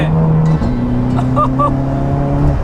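Volkswagen Scirocco with a 2.0 turbo engine, tuned to Stage 3+ at 370 hp, revs with a steady droning tone that drops briefly at a gear change, then climbs and holds again. The sound is close and loud.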